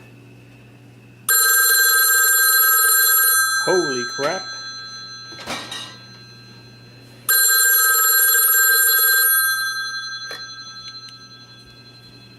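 An old-style telephone's mechanical bell rings loudly twice, each burst about two seconds long, with a pause between them and a person exclaiming in the gap.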